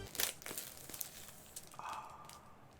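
Plastic wrap being torn and crinkled off two packaged manga volumes, a few quick faint crackles and tearing rustles close by, with no talking.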